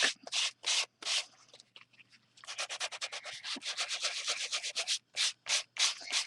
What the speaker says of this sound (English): I'm just going to rub it gently with the sanding block.